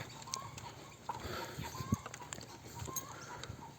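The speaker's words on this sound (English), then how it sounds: "I can hear the chickens" Chickens on a poor island homestead cluck faintly in the background, several soft calls scattered through steady outdoor ambience with a brief louder knock partway through.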